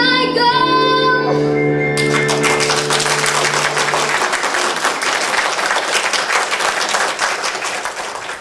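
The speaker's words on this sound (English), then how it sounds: "Give another round of applause for everyone." Loud audience applause at a spring musical theatre showcase, breaking in as the final sung note and band chord fade, then a dense, steady wash of many hands clapping for several seconds.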